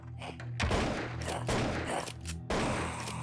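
Gunfire in the video game Anglerfish: three loud, close bursts of shots land about a second apart over a steady game soundtrack.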